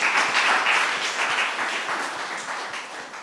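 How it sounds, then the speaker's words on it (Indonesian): A small audience of eleventh-grade students claps for a student presenter after her talk about parentification and mental health, a dense steady patter of applause that holds for a few seconds and slowly thins. "berikan tepuk tangan untuk Natasha"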